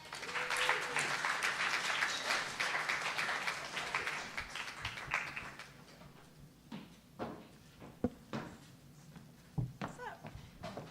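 Audience applause greets a guest at a live talk event in New York, dense clapping that fades after a few seconds into scattered claps, thumps and murmuring voices.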